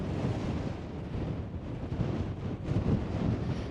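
Strong wind blows steadily outdoors, a loud broadband rush buffeting the microphone with gusts swelling throughout and no speech.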